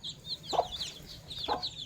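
Small chicks around a covered mother hen, soft rapid peeps continuing over two short low clucks, heard close and at low volume.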